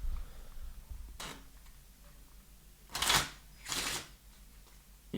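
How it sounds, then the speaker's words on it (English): Playing cards being shuffled at close range, with three crisp riffling bursts of a second or less each, separated by quiet pauses and no talk. "These microphones are going to pick up some nice, crispy card work here. So go ahead and shuffle these cards."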